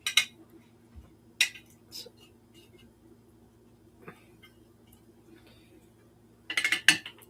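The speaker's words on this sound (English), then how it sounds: "I need a big spoon so I can smush all this down in there." A big spoon pushes honey-soaked ginger down inside a glass jar, with a few sparse metallic clinks against the glass, then a quick cluster of clinks near the end, amid an otherwise quiet kitchen.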